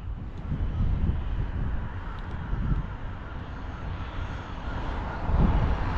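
An Arrma Limitless RC car accelerates during a speed run at an outdoor location, giving a steady, broad motor whine and rushing roar with wind noise, swelling slightly near the end.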